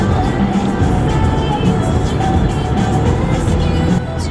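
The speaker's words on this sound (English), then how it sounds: "This truck is really scaring me." Steady road rumble from a car cruising at highway speed, with a truck nearby on the same highway, a continuous dense roar with no distinct pass-by peak.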